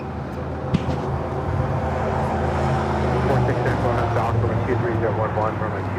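An airplane taking off at LAX sends a broad, steady engine rumble that builds slightly, with voices talking over it.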